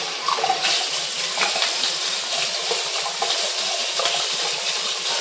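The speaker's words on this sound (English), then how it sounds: "all we do is use cold water" Cold water runs steadily from a bathroom tap over hands while rinsing after a safety-razor shave, a constant close splashing hiss with small irregular spatters and no speech.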